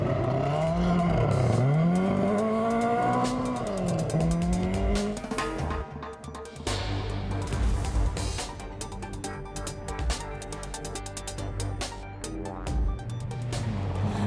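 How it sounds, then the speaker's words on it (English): A loud Ford Escort rally car engine roars and revs close by at Rally Canterbury, New Zealand, pitch sweeping up and down through gear changes, followed by rough, crackling engine noise. "the familiar sound of the beautiful Escort"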